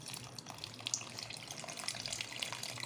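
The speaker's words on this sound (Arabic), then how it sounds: "كيلو لبن كامل على الرز" A full kilo of milk pours steadily onto rice for rice pudding, a continuous liquid gush and splash lasting throughout with no pauses.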